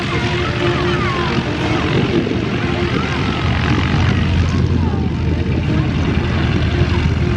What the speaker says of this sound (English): There's the jumper airplane right up in front of us